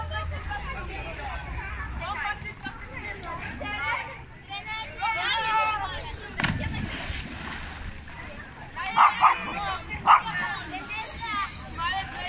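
A nervous dog barks repeatedly beside the sea, where people are jumping into the water, with splashing and a lively crowd talking over and around the sharp yaps throughout.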